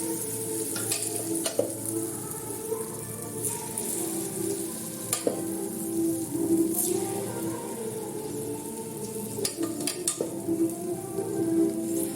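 Unniyappam batter fries in coconut oil in an unniyappam pan, a steady crackling sizzle close up with occasional sharp clinks and scrapes of a utensil against the metal pan, no voices.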